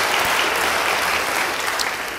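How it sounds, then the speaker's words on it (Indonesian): Applause from a church congregation: a thick, continuous patter of many hands clapping at once, holding steady and then tapering slightly at the end. "Beri tepuk tangan bagi dia"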